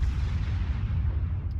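Deep rumbling booms from the main guns of the battleship USS North Carolina in World of Warships, a dense low-frequency roar sustained for about a second and a half with no talk over it.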